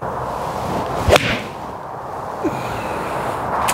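A sharp, crisp golf iron strike on a ball, followed by a faint rush as it flies off, then a second softer tap against quiet outdoor ambience.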